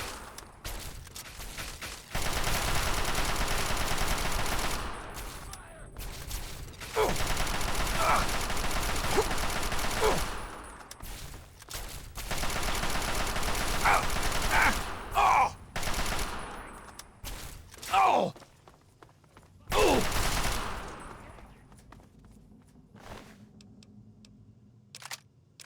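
Gunfire in the video game Fallout 3, long sustained bursts of rapid automatic fire with short gaps between volleys, loud and close, followed by a few scattered shots and brief clatter.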